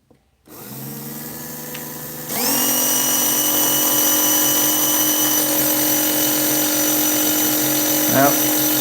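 A small electric motor on a dyno, its endbell timing set to neutral, spins up from quiet into a loud, steady high-pitched whine, with a brief wavering near the end.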